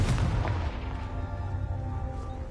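Loud, sustained rumbling blast from the Confringo fire spell in the Hogwarts Legacy video game, opening with a sharp burst that rolls into a dense, roaring boom lasting a couple of seconds, with no talk.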